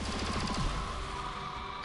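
A short burst of rapid gunfire from the XCOM 2 game, several quick shots in a fast rhythm that trails off into a lingering tone.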